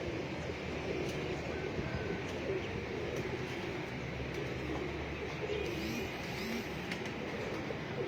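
Pigeons coo on a rooftop loft under a steady wash of outdoor background noise, soft and somewhat distant throughout.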